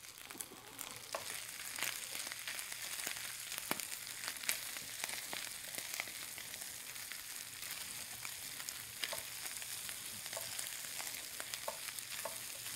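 Hawaiian fried rice sizzles in a hot pan, a continuous bright hiss broken by repeated scraping and stirring clicks as the rice is tossed and mixed.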